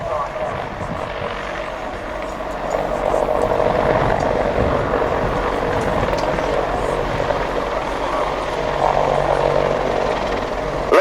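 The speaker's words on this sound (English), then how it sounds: "Ladies and gentlemen, the British Army Apache attack helicopter." British Army Apache attack helicopter flying at an air show demonstration at Cosford, a continuous broad rotor and engine roar that swells and holds steady at moderate distance.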